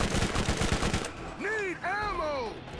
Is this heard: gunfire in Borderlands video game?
yes